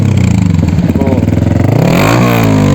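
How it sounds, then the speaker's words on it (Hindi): A Pulsar 220F motorcycle with a loud aftermarket exhaust revs hard and close, its pulsing idle rising into a sweeping climb in pitch and then holding a loud roar. "बाकी मैंने एग्जॉस्ट लगा लिया है जो कि काफ़ी ज़्यादा लाउड है भाई।"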